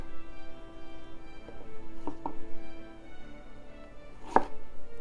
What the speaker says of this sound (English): I'm going to cut it right there and then simply square this off